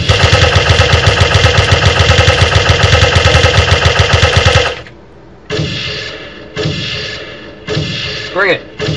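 Rapid, continuous Uzi fire in the zombie video game Radio Zed, a loud burst lasting several seconds, then shorter bursts and thumps with a player talking between them.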